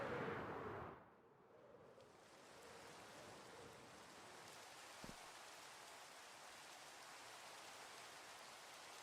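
Steady Minecraft rain in a video game, an even soft hiss of falling drops that holds for most of the stretch after a brief louder opening.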